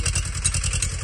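A tractor engine arrives on a farm field, its steady low rumble pulsing rhythmically with clattering mechanical knocks, loud and close throughout.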